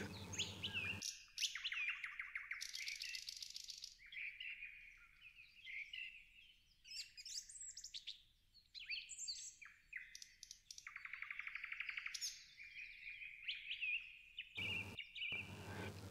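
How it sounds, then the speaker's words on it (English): Forest birds sing at sunset, overlapping trills, chirps and whistles from several birds coming in quick bursts and phrases, fairly close and clear against a quiet background with brief gaps. "The bird song reaches a crescendo, filling the ear with an eternal chorus."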